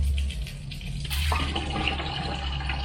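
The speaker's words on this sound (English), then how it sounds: "we've got water running smooth. So, here's my container." Tap water pours steadily into a container during maintenance of a Raceglaze zero PPM water filter, a continuous close rushing splash that shifts in tone partway as the flow changes, with no talking.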